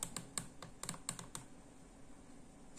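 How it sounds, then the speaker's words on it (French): Fingers type on a small backlit mini keyboard with a touchpad, producing a quick irregular run of light, close clicking keystrokes that bunch together and then pause briefly before one last tap. "Si je veux taper mon site,"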